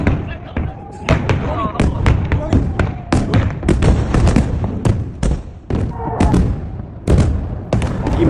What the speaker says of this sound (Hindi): यह पहली बार हुआ है कि ईरान की मिसाइल और रॉकेट पूरी ताकत से रास्ते में रोकने के बावजूद पूरे इजराइल पर मिसाइलें दंदनाती हुई गिरी हैं।